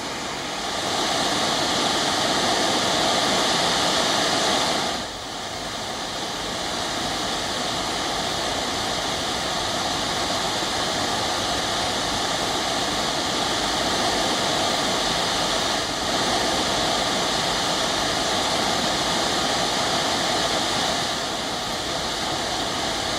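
Water rushing through the opened gates of a dam on the Beas river: a loud, continuous broadband roar that holds steady throughout, briefly dipping once, with no talking.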